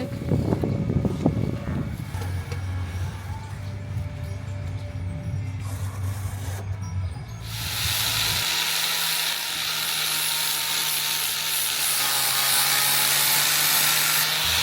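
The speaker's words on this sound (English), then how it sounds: "We will grind the bare metal so that the panel bond will stick." A power grinder works over a bare metal car panel, a steady loud abrasive roar that shifts to a brighter, harsher hiss partway through, continuous and close with no talking.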